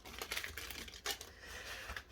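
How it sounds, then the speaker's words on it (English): Tarot cards being shuffled by hand, a quiet run of soft riffling flutters and papery slaps close by, with no talk. "Shuffle a bit more. Let's make sure we get those cards really shuffled."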